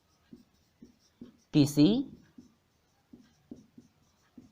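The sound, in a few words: writing on a board during a lecture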